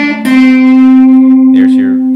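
A blues guitar lick ending on the minor third: a short picked attack, then one bright sustained note ringing steadily with rich overtones, a few quieter string sounds near the end, close and loud.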